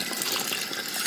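Foam ear plugs are rinsed under a running tap, a steady, loud and close rush of water gushing over them with no pause throughout.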